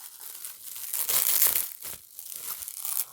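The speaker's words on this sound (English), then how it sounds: "The fucking wrapping on it. Let me unwrap it." Crinkly plastic wrapping on a watermelon snack being torn open and crumpled up close, in loud bursts of crackling and tearing with short pauses between them.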